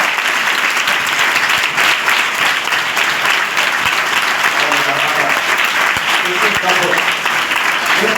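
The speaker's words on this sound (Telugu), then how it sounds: "గట్టిగా చప్పట్లు కొట్టి" A church congregation claps loudly and steadily during a praise and prayer service, producing a dense, continuous wall of close applause that lasts the whole stretch without pause.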